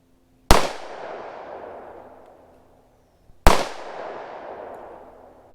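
Two loud, sharp 10mm handgun shots fired at a target outdoors, about three seconds apart, each a close crack followed by a long decaying echo.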